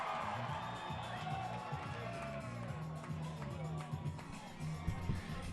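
A crowd cheers and whoops at an outdoor climbing competition in Park City, a steady wash of shouting voices with a commentator talking over it and a few louder bursts near the end.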